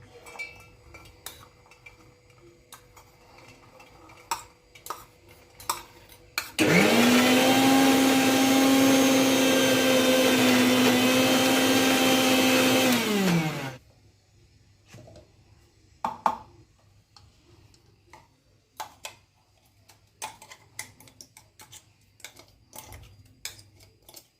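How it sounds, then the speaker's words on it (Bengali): A kitchen mixer grinder coarsely blends sweet corn for cutlets without water. Its loud, steady whirring roar runs about seven seconds and then stops. Faint clinks and taps of utensils come before and after, with no talk. "সুইটকর্নটা মিক্সিতে বেটে নেব।"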